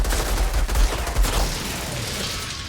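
Rapid pistol fire emptying a pair of pistols in the shooter game Outriders, dense bursts of loud shots packed into the first second and a half, then tailing off into echoing decay.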